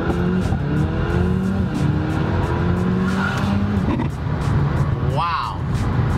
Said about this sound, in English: You press paddle up and then just floor it and then let go of the brake.